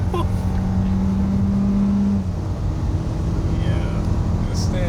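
2021 Kia K5 LXS sedan with a loud, steady engine and road rumble heard from inside the car, with a brief sustained tone early on, continuous and close throughout.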